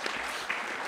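An audience at a women leaders session claps together, a dense, brief burst of applause that stays even and close throughout.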